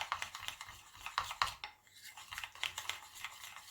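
A thick, mud-like mixture being stirred in a bowl, with repeated wet scraping and sloshing strokes in an uneven rhythm, close and fairly quiet, with no voices.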